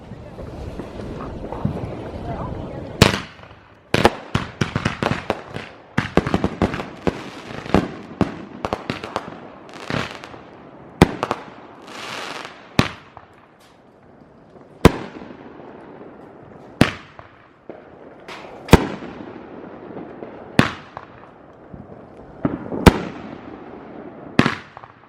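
Fourth of July fireworks go off in a backyard: a dense, rapid string of crackling bangs, then loud, spaced booms every couple of seconds, with wind noise and occasional voices.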